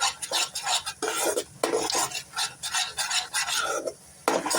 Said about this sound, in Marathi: ही दह्यामध्ये मसाले मिक्स केलेले जे आहेत ना ते आपण याच्यामध्ये ऍड करणार आहोत